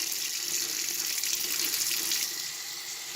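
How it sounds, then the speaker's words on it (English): Steady tap water runs into a sink, rinsing soap out of the fabric of a 70-year-old vintage Effanbee doll; a continuous close hiss that eases slightly near the end. "You're gonna rinse it, all the soap out of it"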